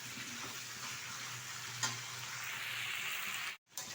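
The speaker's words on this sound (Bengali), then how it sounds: "ভালোভাবে কিন্তু ইঁচড় আর আলুটা কষিয়ে নিয়েছি মশলার সাথে।" Jackfruit and potato frying with spices in oil, a steady close sizzle with a faint tick of stirring, cut off briefly near the end.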